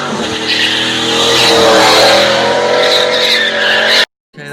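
A WS6 car drifting, with loud continuous engine roar and sustained tire squeal, close and intense, ending in a sudden cut to silence.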